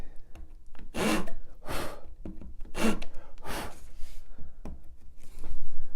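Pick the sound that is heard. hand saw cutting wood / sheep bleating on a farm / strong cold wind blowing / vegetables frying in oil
hand saw cutting wood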